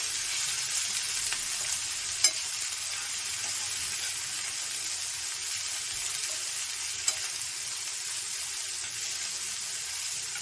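Onions and chillies sauté in a pan for kuzhi paniyaram filling, a steady close hiss and sizzle with two faint clicks from stirring.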